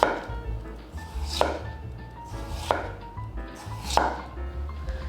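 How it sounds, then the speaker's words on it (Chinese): A kitchen knife slices peeled potatoes into thin pieces on a cutting board, sharp chops landing in a steady, unhurried rhythm about once a second, close and clear, with no talking. "马铃薯削完皮洗干净，现在切成薄片，切薄一点"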